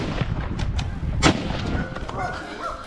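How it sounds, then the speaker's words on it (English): Rapid hunting-rifle gunshots during a wild boar hunt in a forest near a cornfield, several sharp loud cracks with a dense rumbling, noisy background and a prominent blast near the middle. "Rapid gunshots echoed, and the animal collapsed under the hand of the professional hunter"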